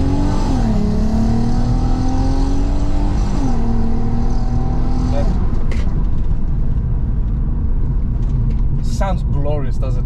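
Stage 2 tuned Volkswagen Golf GTI MK5 revving hard on a forest road, its engine note rising and falling in long loud pulls, with popping exhaust crackles bursting in near the end.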